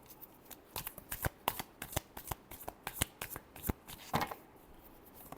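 Tarot cards shuffled by hand in a steady run of crisp riffling flicks and slaps, close and clear, with no voices over them.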